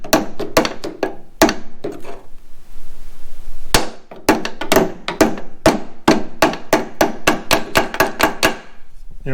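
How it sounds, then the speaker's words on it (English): A small ball peen hammer taps a Chevy Nova's metal door hinge area in quick, uneven bursts of sharp ringing strikes, close and loud, with a brief pause partway through. "So now I'm going to try to use the ball peen of this small hammer."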